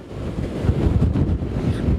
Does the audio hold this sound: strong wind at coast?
yes